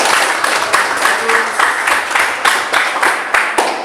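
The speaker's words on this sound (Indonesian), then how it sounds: "Tepuk tangan dulu ini." Short bursts of rhythmic clapping from an audience at a school presentation, loud and close, with the claps coming in uneven pulses.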